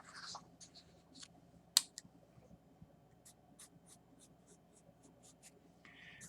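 A pen draws a line across a graph, making short scratchy strokes and light taps at close range in an otherwise quiet room, with one sharp knock early on.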